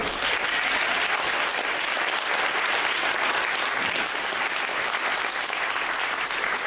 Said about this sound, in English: I want you to applaud me